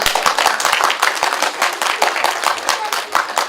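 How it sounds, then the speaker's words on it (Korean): A crowd claps steadily and energetically, close and continuous, with dense overlapping hand claps throughout. "다시 한번 큰 박수 부탁드립니다"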